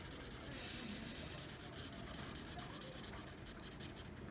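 Colored pencils shade a drawing on paper, a steady close scratching and rubbing with quick back-and-forth strokes throughout.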